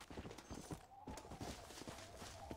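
Horse hooves clip-clopping at a steady walking pace in the video game Red Dead Redemption, a quiet rhythmic clatter of repeated hoofbeats with a faint tonal background underneath.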